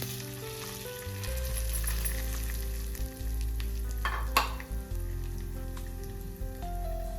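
Semolina sizzles and roasts steadily in hot ghee in a pan, a continuous soft frying crackle with occasional stirring scrapes, heard alone without talk.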